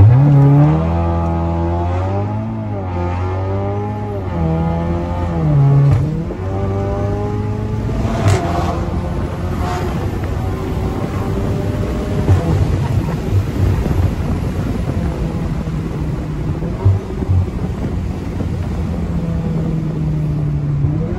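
A Volkswagen Golf 7.5R engine revs hard and loud, its rising and falling pitch sweeping up and down repeatedly before settling into a sustained, roaring drone with raspy exhaust crackle throughout.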